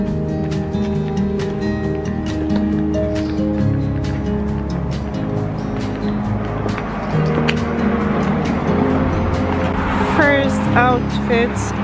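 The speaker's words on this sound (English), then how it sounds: "I hope you can hear me through the noise of the cars" Traffic on a city street rumbles and swishes past continuously, cars passing at moderate distance while a person talks over the steady noise.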